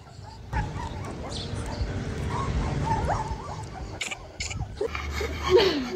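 Several dogs bark, yip and whimper in short overlapping bursts, fairly close and moderately loud, with brief gaps between outbursts and no clear speech over them.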